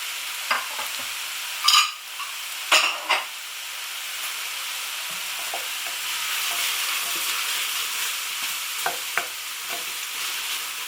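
Ginger and garlic fry in a pan over fairly high gas heat in a steady sizzling hiss. The sizzle is broken early by a few clacks of stirring and occasional small taps.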